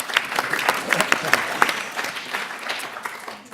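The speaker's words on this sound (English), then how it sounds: "Should we have a round of applause?" Audience applause fills a plenary session at an international conference in London, a steady dense patter of many hands clapping that holds at moderate loudness, then thins and fades near the end.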